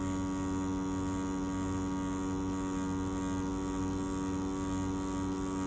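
A Dragonhawk Atom M5 rotary tattoo machine runs at 7.5 volts while packing black ink, giving a steady, loud, unbroken electric hum and buzz that stays constant throughout, with no voices.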